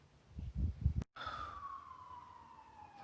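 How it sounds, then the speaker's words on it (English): An emergency vehicle siren sounds outdoors at a distance, a single falling wail that rises out of faint background after a brief low thump and a short cut. "Fucking sirens."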